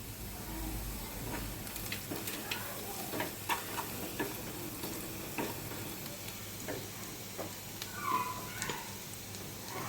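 Onions frying in a pan with salt, turmeric and red chilli powder for Hyderabadi egg curry: a steady close sizzle broken by scraping stirs and small clinks, with no talking.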